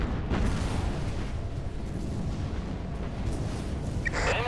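Heavy battleship guns of the Yamashiro firing broadside salvos in a Pacific naval battle, a dense, sustained rumbling roar of deep booms with no speech, ending in a brighter burst.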